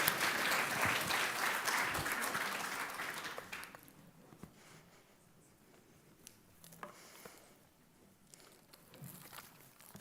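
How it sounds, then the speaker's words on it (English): An audience claps loudly for about three and a half seconds, then the applause fades, leaving a quiet room with scattered knocks and rustles. "Please give him a round of applause."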